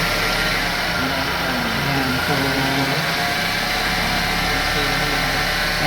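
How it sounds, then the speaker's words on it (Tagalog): A car with a 2E engine idles smoothly after a carburetor cleaning, tuning and a new idle solenoid: a steady, even hum that holds throughout, with a voice likely under it. "So hindi na mapalag yung makina. Hindi katulad kanina. Saka may idle na siya."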